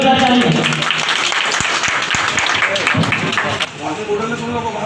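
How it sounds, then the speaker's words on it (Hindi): Loud, sustained applause from a crowd at a quiz competition in Asansol, a dense wash of clapping that fills the whole stretch, with a few sharper individual claps standing out partway through. "जोरदार ताली।"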